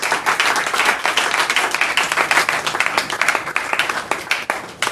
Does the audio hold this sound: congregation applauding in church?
yes